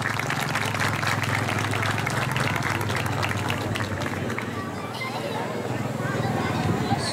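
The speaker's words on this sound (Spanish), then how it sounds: "¿Aplausos?" Applause from an audience at a Christmas lights concert by a municipal symphony orchestra in Santa Rita, a loud, continuous crowd roar with a low hum beneath, sustained throughout.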